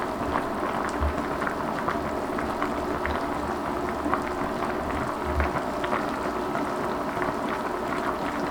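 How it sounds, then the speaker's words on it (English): A covered pot of Korean beef short rib stew with vegetables simmers over medium heat, giving a steady dense bubbling hiss with occasional soft pops, continuous and without talk. "Once it starts to boil, reduce the fire to medium and let it boil covered"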